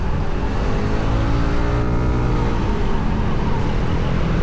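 A Kymco KRV180 scooter fitted with an MTRT SP2 exhaust and stock elbow revs at high RPM, giving a steady, loud, close engine drone that holds for the whole stretch with no pauses.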